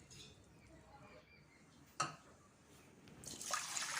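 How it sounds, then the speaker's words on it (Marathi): Rice being washed in a bowl: water swishes and trickles with a sharp splash midway, then louder pouring and sloshing toward the end, close by. "हे तांदूळ आपल्याला स्वच्छ पाण्याने अगोदर धुवून घ्यायचे आहेत"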